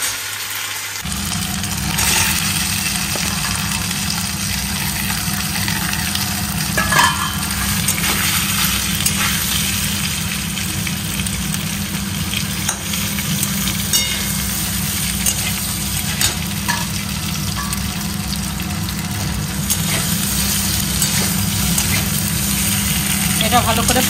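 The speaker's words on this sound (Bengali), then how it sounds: "আলুটাকে একটু ভালো করে ভাজতে হবে" Potatoes frying in a pan, a continuous loud sizzle held steady throughout with occasional scraping stirs on top and a low background hum underneath.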